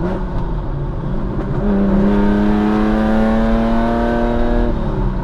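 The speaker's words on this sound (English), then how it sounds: "the Lamborghini Countach 5000 QV. As you can hear, this is pretty loud. This has got a straight through pipe, which makes it insanely loud." A 1985-era Lamborghini Countach 5000 QV with a straight-through exhaust drones loudly and close, its engine note rising in pitch as it revs and then holding a sustained, strained tone, with no voices.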